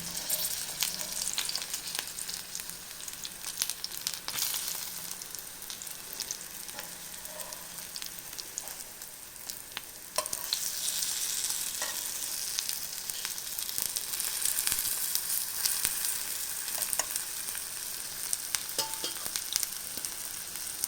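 Nendran plantain slices frying in hot oil give a steady, close sizzle that runs without a break for about twenty seconds, with occasional clicks and pops and no voices.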